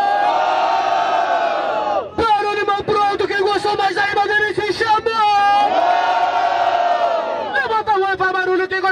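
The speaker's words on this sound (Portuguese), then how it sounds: "Então eu quero muito barulho para quem gostou mais da rima da Luiz Pereira" A rap battle crowd at an outdoor battle in São Gonçalo erupts in loud sustained cheering and shouting for a round winner, a packed roar of voices close by that swells and dips.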